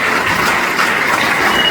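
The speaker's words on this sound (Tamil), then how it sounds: "ஒரு பெரிய கரகோஷம்" Dense, steady applause from an audience at a tribute ceremony in Britain, a continuous wash of clapping with no gaps and no voices over it.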